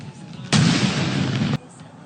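A Pakistan Army 31-gun artillery salute: one booming report lands abruptly and holds as a roaring, rumbling blast for about a second before cutting off, loud against a quieter outdoor background.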